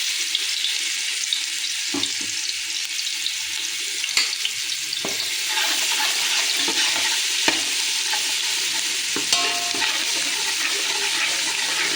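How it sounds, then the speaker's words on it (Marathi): Spice paste frying in about three large spoonfuls of hot oil in a pot for pav bhaji: a steady close sizzle with occasional clatters of a spoon stirring, and no voices. "ही पेस्ट तेलामध्ये थोडीशी तळून घ्यायची"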